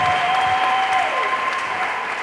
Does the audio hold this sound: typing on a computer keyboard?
no